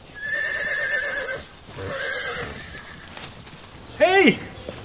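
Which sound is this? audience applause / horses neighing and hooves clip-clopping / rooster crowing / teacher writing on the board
horses neighing and hooves clip-clopping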